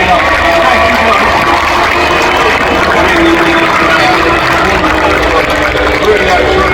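Sustained crowd applause and cheering at a UK monster truck show, loud and continuous with an announcer talking over it.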